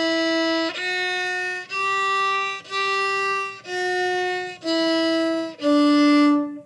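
Bowed string instrument playing a rising scale with a separate bow stroke on each note: seven clear, evenly spaced sustained tones, each with a small break before the next, close and alone.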